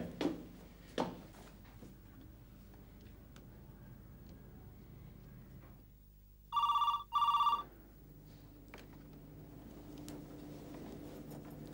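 Two short bursts of a telephone ringback tone, loud and evenly spaced, sound while a child phones his mother at night in a Hindi TV drama, over a quiet room with a few faint knocks.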